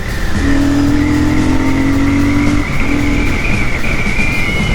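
Royal Enfield Super Meteor 650 motorcycle cruising on the Mysuru road, a steady loud engine drone with wind rush and a sustained tonal whine, constant and close throughout.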